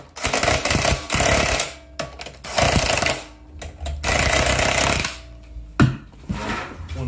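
A power driver tightens the carburetor bolts on a Husqvarna mower's Honda GCV160 engine in several loud bursts of whirring and rattling, with short pauses between them.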